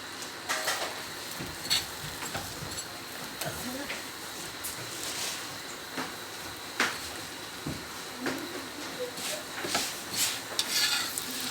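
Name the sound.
paratha frying in ghee on a pan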